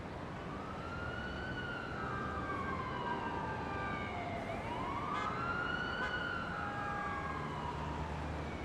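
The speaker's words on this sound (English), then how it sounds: "And some city ambience." City ambience sample used in an FL Studio music project: a distant police-style siren wails and sweeps up and down over a steady, low background hum of traffic, with no talking.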